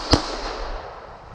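A handgun fitted with an RMR red dot sight fires one sharp, loud outdoor shot that decays quickly into a brief rumbling echo.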